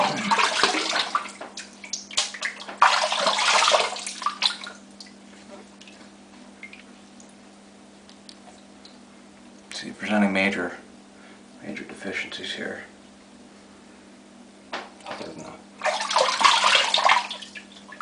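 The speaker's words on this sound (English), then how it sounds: "Let me get the old mug wet." Running water from a tap splashes into a shaving mug as it is wetted, a steady hiss with a few louder splashing bursts, while someone talks intermittently over it.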